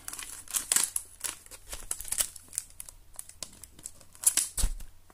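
A football trading card pack wrapper (Adrenalyn XL FIFA 365) torn open by hand, giving several close crinkling and ripping bursts with short pauses between them and no talking.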